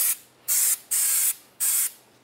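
Three loud bursts of aerosol spray cleaner on car parking brake parts of a 1999-2003 Toyota Solara, each hiss lasting about a third of a second with short gaps between, close and alone.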